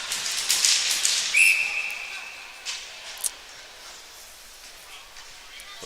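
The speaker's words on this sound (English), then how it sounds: "whistle's blown" Referee's whistle at a U15 ice hockey game, one short sharp blast heard fairly distant over arena crowd noise, with a commentator talking.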